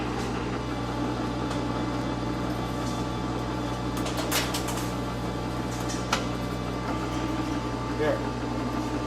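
A metal lathe runs steadily while cutting a thread, a constant close mechanical hum with faint scattered clicks and scrapes over it.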